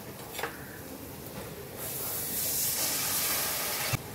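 Spices dropped into hot oil in a pan while cooking butter masala, a steady hiss that swells into a louder sizzle, with a brief clatter at the start and a sharp knock near the end.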